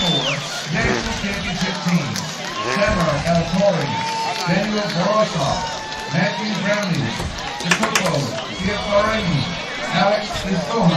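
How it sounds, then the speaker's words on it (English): Large crowd filling the stands at a junior college football game between Tyler JC and Kilgore College, a steady murmur of chatter and hubbub with scattered shouts and brief cheers throughout, with people talking nearby. "It is a good crowd down there."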